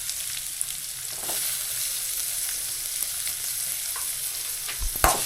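Spices for a tadka crackle and sizzle in hot oil in a home kitchen, a continuous bright frying hiss broken by occasional pops and stirring scrapes.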